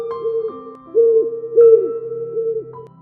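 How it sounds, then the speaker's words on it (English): A great horned owl hoots in a quiet night setting, several soft, low hoots spaced evenly across a few seconds, clear and isolated with nothing else around. "The sound of a great horned owl."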